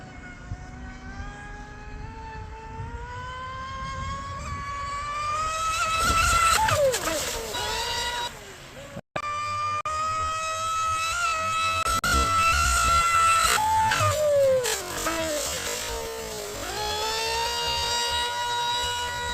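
Proboat Impulse 32 RC boat with Stage 2 prop upgrades running on a cove, its high motor whine rising and falling in pitch as it speeds near and away, with a brief cutout.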